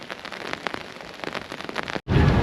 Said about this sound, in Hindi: बारिश की शिद्दत काफ़ी तेज़ हो गई है अब